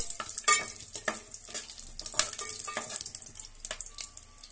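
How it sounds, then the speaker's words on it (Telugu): Bay leaf, cardamom, cloves and cinnamon fry in oil in a pan for a chicken pulao, with steady close sizzling broken by repeated scraping and stirring strokes; nobody speaks. "ఆకు యాలకులు లవంగాలు చెక్క మూడింటిని కలిపి వేసుకొని ఇలా ఫ్రై చేసేసుకోవాలి"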